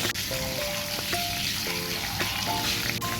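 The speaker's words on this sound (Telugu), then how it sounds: "ఆయిల్ వేడెక్కాక కొద్దిగా జీరా అండ్ ఆ గ్రైండ్ చేసిన పేస్ట్ని వేసుకోవాలి" Cumin and a ground coriander-garlic paste go into hot oil for green masala paneer fry, producing a lively close sizzle and spatter with brief stirring and scraping sounds.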